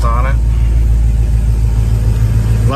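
A 1975 Ford Gran Torino with a 351 engine and dual exhaust idles at a car show, a loud, deep steady rumble close by, with someone talking briefly at the start and end.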